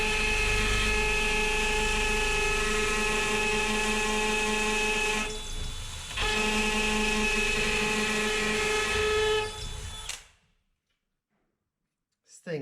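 A rotary hammer drill in hammer mode hammers away loudly and steadily on concrete, with a brief dip partway through, then cuts off into silence before a short burst at the end.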